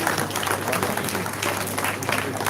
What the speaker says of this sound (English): Yes, let's keep the applause going.